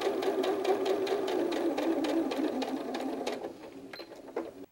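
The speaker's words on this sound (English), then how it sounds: "you'll want to sew the two pieces together that have a notch using a 1/8 inch seam allowance also" A sewing machine stitches two notched fabric pieces of a hedgehog softie together with a 1/8 inch seam: a steady, close, rhythmic whirring hum that slows and stops near the end, with no voices.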